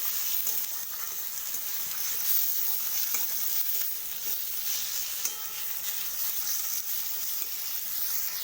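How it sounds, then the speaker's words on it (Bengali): Chicken pieces frying in a pan while being stirred, a continuous close sizzle with scraping and stirring clatter and no talk. "তো চিকেনটাকে দিয়ে আমি একটু ভালো করে একটু ভেজে নেব।"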